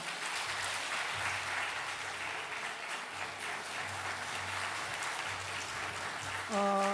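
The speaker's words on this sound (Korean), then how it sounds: "우리 박수 한번 부탁합니다." Steady, dense applause from a church congregation fills the sanctuary during a Sunday morning service at Ulsan Donghae Church, honouring a new member's course completion; a brief sustained instrumental tone enters at the very end.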